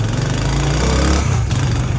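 Motorbike engine starting up and running with a steady, loud low rumble and rapid knocking pulse throughout, close by, with no talk.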